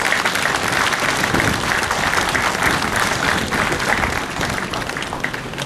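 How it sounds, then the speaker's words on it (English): Loud, sustained audience applause at a Ghana Armed Forces military ceremony, steady dense clapping from a large crowd lasting throughout and fading slightly at the end. "Let's give him a round of applause."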